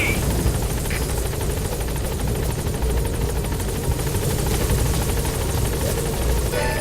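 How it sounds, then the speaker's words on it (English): A support helicopter in the video game Metal Gear Solid V: The Phantom Pain arrives at a landing zone, its rotor thumping steadily and loudly throughout, a dense continuous chopping drone with engine whine, sustained without pause. "Support helicopter has arrived."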